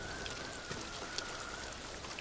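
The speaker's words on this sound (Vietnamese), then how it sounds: "Cơm hay thành cháo rồi, mưa to." Heavy rain falls in the samurai video game Ghost of Tsushima: a soft, steady patter of drops on surfaces, quiet and unbroken with no voices.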